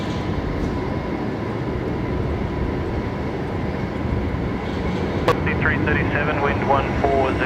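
A Qantas Airbus A330 on approach to land at Brisbane Airport, its steady engine roar filling the scene at a constant, fairly loud level throughout, with a faint radio voice entering near the end.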